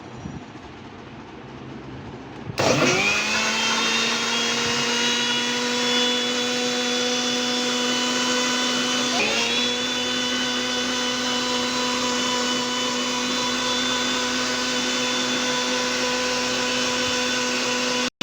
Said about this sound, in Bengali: এখন ঢাকনা দিয়ে ঢেকে ব্লেন্ডার করে নেব